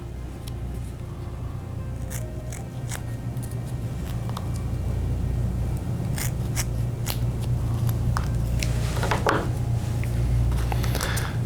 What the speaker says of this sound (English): So we're going to cut up some 1-inch chunks.